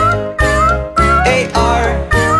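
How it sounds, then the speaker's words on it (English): A cat meowing in a children's nursery-rhyme song about a farmer's cat, four loud, tuneful meows in a steady rhythm set to the music. "There was a farmer who had a cat, and Oscar was his name,"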